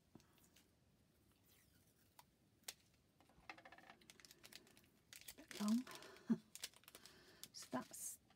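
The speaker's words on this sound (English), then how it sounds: "Can't find the end to my washi tape." Fingers pick at and peel a roll of washi tape during a diamond painting craft session, making soft close crinkles and small ticks, with a few louder rustles and tearing bursts later on.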